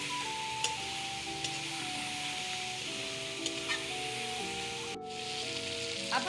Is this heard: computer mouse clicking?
no